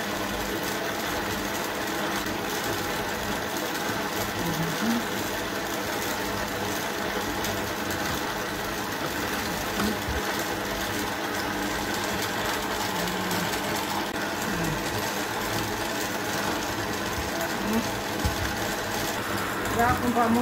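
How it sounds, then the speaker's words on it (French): A kitchen stand mixer runs for a Christmas log cake with pineapple and coconut, a continuous close motor whir with a faint rhythmic rattle, steady throughout while people talk over it. "Là, on va monter le robot."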